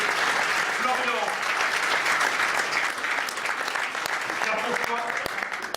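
Applause from a product launch audience for an equipment team, a steady, dense bed of clapping with voices murmuring underneath, fairly loud and sustained.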